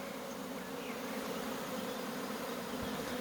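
A spring swarm of honeybees hums in a continuous dense buzz, steady and enveloping, moderately quiet and with no talking over it.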